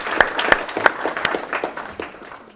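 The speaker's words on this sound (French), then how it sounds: "On peut déjà vous applaudir." A small audience applauds at a startup masterclass, scattered individual claps building briefly then thinning out over a couple of seconds.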